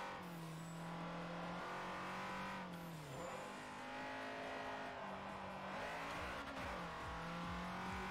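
A Honda Civic race car in the video game Forza Motorsport 4 drones at steady revs through gear shifts, the engine pitch dipping and climbing again, with tire squeal over the top and no talking.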